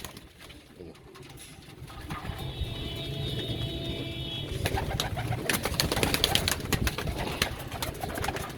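A flock of pigeons gathered for shipment coos steadily, close by, over some rustling and mechanical clatter that grows busier toward the end.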